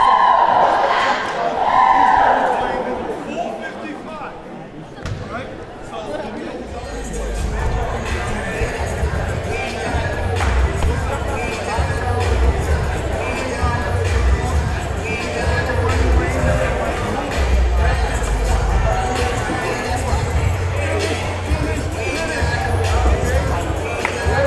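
A high school boys basketball crowd in a gym, Palmer against Renaissance, cheers and roars steadily while the Phoenix mascot pumps them up, with loud sustained crowd noise and chatter after a brief quieter start.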